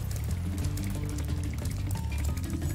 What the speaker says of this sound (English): an acid waterfall, I guess, but still a waterfall